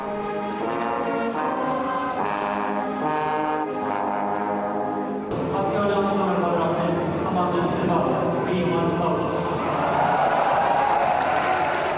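Applause for a student at a Korean high school graduation ceremony at Dongseong High School in Gwangju: a broad, sustained clapping wash rises after a tonal musical passage, continuing steadily under a narrating voice.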